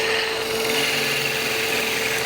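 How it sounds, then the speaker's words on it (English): Parting tool cutting into a spinning wooden top on a lathe, producing a loud, steady rasping whine with a constant motor hum, close and uninterrupted. "I'm going to part this down a little further to give me some more working room."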